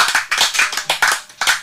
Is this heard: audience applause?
yes